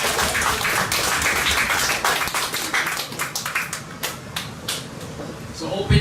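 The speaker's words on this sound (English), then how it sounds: "So let us give them a big clap" An audience at an end-of-summer class celebration claps for an upcoming piano recital, the applause dense at first and then thinning into scattered claps before fading.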